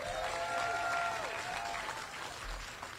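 Applause from the crowd at an outdoor groundbreaking ceremony for a hip hop museum in the Bronx, a moderate steady wash of clapping with faint tonal background sounds.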